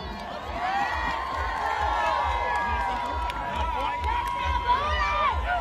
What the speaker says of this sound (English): Give them a round of applause, y'all